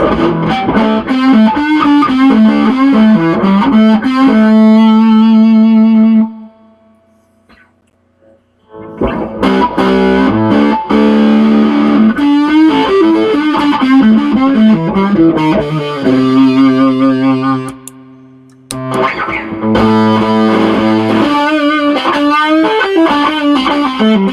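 Electric guitar played through a Fuzz Face fuzz pedal, loud saturated sustained chords and notes in phrases, with a brief near-silent gap mid-way and another short dip before resuming.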